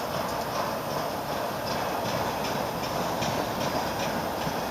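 Norfolk Southern freight cars, mostly well cars carrying containers, roll steadily past in Greenville, South Carolina, a dense, constant rumble with faint rhythmic wheel clicks and no pauses.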